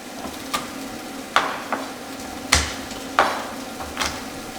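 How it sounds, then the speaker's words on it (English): Garlic cloves are crushed with the flat of a kitchen knife on a cutting board, giving five or six separate sharp thumps spaced about a second apart, close and clear with no talking. "I'm just going to use the flat of the knife to smash the clove."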